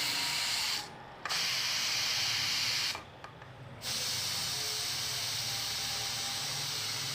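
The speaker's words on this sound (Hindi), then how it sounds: "अब मैं इसकी जो है ना भाप निकाल रही हूँ" A pressure cooker vents steam in a loud, steady hiss while mutton stew cooks, cut off briefly twice before resuming and then running on continuously, close and alone without talk.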